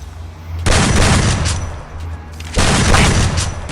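Bursts of gunfire in the video game Free Fire, two dense loud volleys of rapid shots close up, separated by a brief quieter gap, with no talking.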